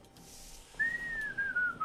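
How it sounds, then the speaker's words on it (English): A single whistled tone glides slowly downward and wavers, clear and close, over faint background hiss. "I probably shouldn't whistle."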